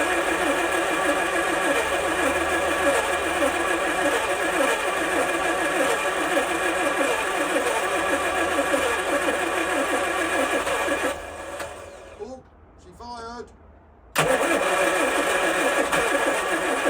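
A Rover Metro engine, parked for 26 years, cranks steadily with a rhythmic chugging from the starter turning it over, then drops out briefly before cranking resumes loudly.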